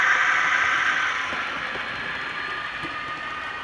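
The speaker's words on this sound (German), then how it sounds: "Als Zug bzw. Schublok fungiert in diesem Falle eine Baureihe 132, die gut bekannte Lüttmiller." A train pulled or pushed by a German class 132 locomotive rolls past, a steady broad rumble with a bright rushing hiss that gradually fades, with no voices.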